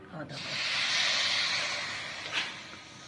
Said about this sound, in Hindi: अब हम इसमें पानी डालेंगे ताकि वो चानी की शक्ल इख्तियार कर दे।